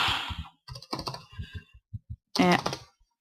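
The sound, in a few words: typing on a computer keyboard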